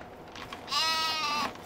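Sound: sheep bleating in video game Farming Simulator 2013

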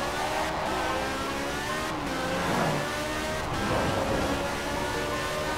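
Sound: 1962 Peel P50 car engine in racing video game

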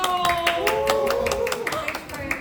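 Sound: people clapping at a birthday cafe

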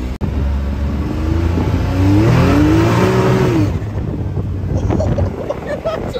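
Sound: 2022 Can-Am X3 side-by-side engine revving, accelerating

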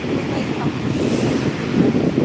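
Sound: big ocean waves at Vettukad beach

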